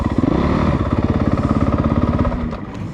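A 2017 Honda CRF450R dirt bike engine thumps loudly and close by at a racetrack, with a steady rapid pulse of firing beats that eases off slightly near the end.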